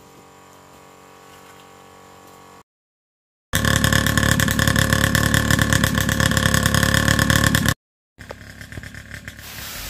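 A small petrol engine drives a DC dynamo pump on a weed sprayer at standard throttle, giving a steady loud hum with water spray noise that runs for several seconds between quieter gaps.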